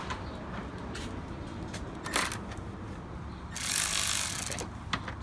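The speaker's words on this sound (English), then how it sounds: "We're going to take our Milwaukee cordless ratchet and unscrew the bolts." A Milwaukee cordless ratchet unscrews bolts on a 2003-2007 Honda while the engine coolant temperature sensor is being replaced, giving short mechanical clicks and a louder whirring burst of the motor spinning, heard close up.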